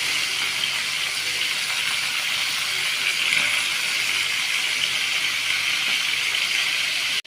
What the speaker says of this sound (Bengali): মুরগির মাংস ভাজার লেগে আমি তেলটা দিয়ে দিলাম এদিকে।